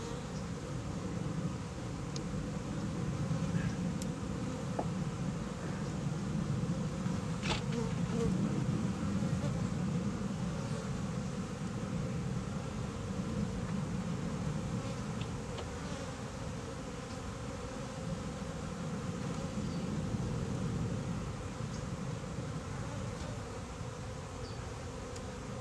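Honey bees buzz steadily around an open hive during a February hive inspection, a continuous low drone filling the whole stretch with faint handling noises.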